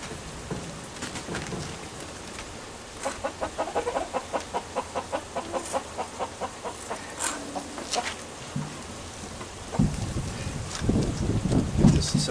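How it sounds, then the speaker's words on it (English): Chickens cluck and call in a steady series of short pulses, with rain-like patter and rustling underneath; no talking. "This is some of the other chickens."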